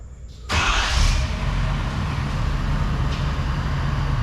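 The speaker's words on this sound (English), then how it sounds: "And now we're going to turn on the truck and put it in reverse." Ford Super Duty truck engine turns over and catches after a brief quiet moment, then settles into a steady, loud diesel-like idle rumble nearby.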